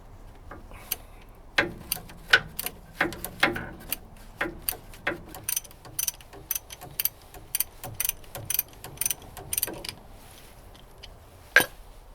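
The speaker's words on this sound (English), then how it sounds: "This is probably really uninteresting for you guys to watch bolts being undone" Bolts are undone on a Land Rover 110 hub, heard as a run of close, sharp metallic clicks and ticks in an irregular rhythm, with quiet gaps between bursts.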